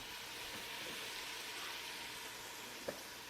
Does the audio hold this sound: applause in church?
no